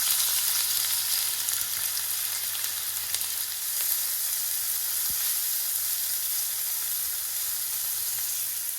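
Chopped onion fries in oil with a steady, close hiss of sizzling that holds evenly throughout, broken only by an occasional light knock, with a low hum beneath and nobody speaking.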